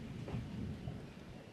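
Low rumbling thunder rolls steadily under a constant wash of rain, with no voices, a dark stormy outdoor ambience heard close and even for a brief moment.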